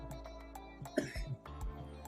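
A man coughs and clears his throat once, a brief rough burst at close range, set against a quiet background.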